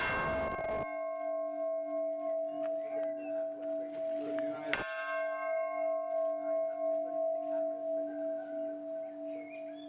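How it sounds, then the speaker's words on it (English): A single bell at an Irish peace ceremony strikes twice, each ring a sharp clang followed by a long sustained, ringing hum of tones that slowly fades, with faint background murmur. "President Biden ringing the bell 4 times for Ireland, for the United States, for his Irish ancestors,"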